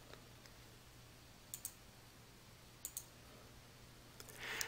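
A few quiet mouse clicks, single and paired, spaced apart against near silence and a faint steady hum.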